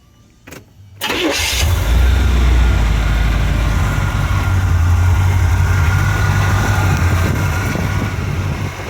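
A car engine cranks and catches, then settles into a loud, steady idle close by with a deep low rumble that holds to the end, a solid motor with a non-working pressure gauge.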